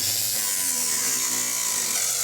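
Power tool cutting out a car rocker panel, a continuous harsh, hissing grind that stays loud and steady for the whole stretch, with no pauses.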